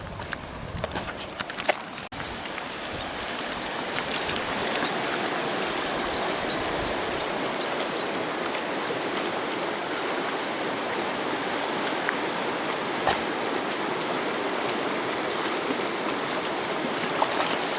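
A creek near Williston Lake, British Columbia, flows steadily and close by, a dense continuous rush of water with no voices.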